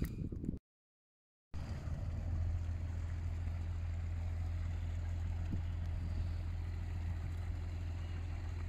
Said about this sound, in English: Just watching this fishing boat go out.